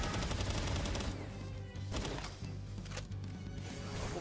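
Gunfire in the video game Palworld, loud bursts of rapid shots layered over game noise, with a few sharper separate reports spaced out toward the end.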